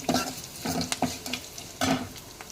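Garlic fries in a pan for drumstick sambar, a soft sizzle broken by several rhythmic bursts of spoon stirring and scraping against the metal, close and fairly quiet.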